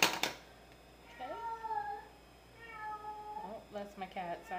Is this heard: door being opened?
no